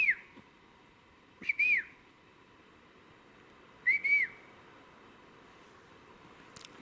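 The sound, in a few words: bird whistles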